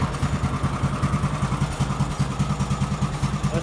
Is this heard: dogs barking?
no